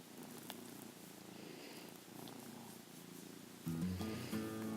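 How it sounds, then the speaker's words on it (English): A cat's soft, low rumbling purr runs steadily in the background, quiet at first and growing louder and closer near the end. "I don't know if you can hear purring in the background."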